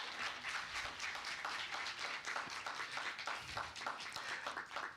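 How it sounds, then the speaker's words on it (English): Applause at a church Sunday celebration, a steady, full wash of many hands clapping throughout, fairly distant and even in loudness, with no voices standing out. "Another round of applause, please."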